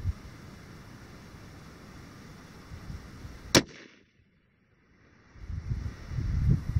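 A budget sniper rifle fires a single sharp shot at a long-range outdoor range, loud and abrupt against steady wind noise, followed by a brief near-silent pause before the wind rumble returns.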